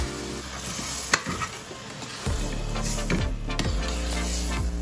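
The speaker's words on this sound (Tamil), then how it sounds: "நம்ம இப்போ சன்னாவை இதில் போட்டுடலாம்" Chickpeas tumble into a pan of hot masala gravy, setting off a steady loud sizzle with stirring scrapes and a few sharp clinks, continuous and close with no voices.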